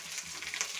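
Chopped tomato sizzles in hot oil with ginger paste for a koi fish and papaya curry, a soft, steady frying hiss with small crackles over a short moment and no talking.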